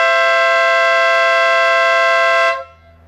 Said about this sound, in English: 3 to 4 second long honk.